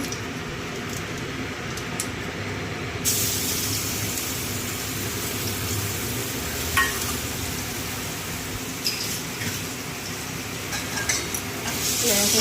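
Garlic and black cumin (kalo jeera) sizzle in oil left over from frying brinjal, a steady loud crackling fry with occasional stirring scrapes throughout.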